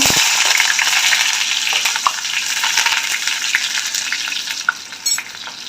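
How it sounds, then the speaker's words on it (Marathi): Chopped onion frying in hot oil in a kadhai: a loud, dense, continuous sizzle with occasional clinks and stirring, close by and with no talking. "तेल गरम झालेलं आहे कांदा टाकून घेऊ"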